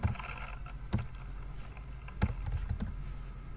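Computer keyboard typing, a few scattered sharp key clicks against a low rumbling background hum, close and fairly quiet.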